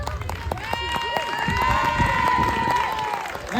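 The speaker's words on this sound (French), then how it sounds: "Un tonnerre d'applaudissements." Audience applause and cheering at a children's Miss & Mister pageant in Le Baizil, steady clapping from a crowd nearby with a voice speaking over it.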